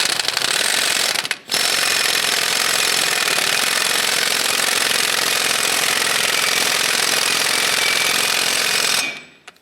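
An impact wrench with a 32mm socket snugs down the axle nut on a 1995-2001 Ford Explorer, a loud continuous rattling hammer lasting several seconds with a brief break early on.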